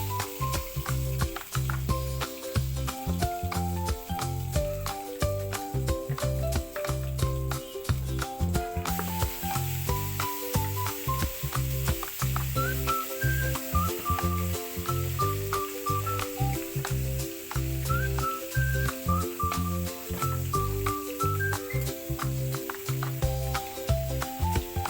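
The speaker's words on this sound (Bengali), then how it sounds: "আর এদিকে আমি মাছগুলো ভাজছি" Tilapia fish frying in hot oil in a home kitchen, a steady crackling sizzle running the whole time beneath louder background music.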